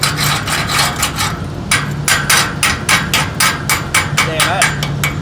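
A hammer chips slag off a weld during a catwalk repair, with rapid, loud metallic taps in quick bursts up close. A brief pause falls between the bursts.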